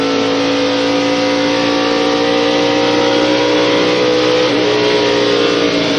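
A stock car engine revs hard and loud under acceleration at the 1994 Brickyard 400 at Indianapolis. The sustained, steady engine roar fills the track with no voices.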